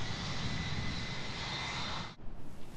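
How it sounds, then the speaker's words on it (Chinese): An airplane passes overhead with a loud, continuous engine roar and whine that stays strong for about two seconds, then cuts off abruptly into quieter background. "飞机也在飞，"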